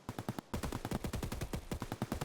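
A big gun fires rapid heavy rounds in Escape From Tarkov, a fast, steady burst of punchy shots after a brief pause, loud and up close with no talk.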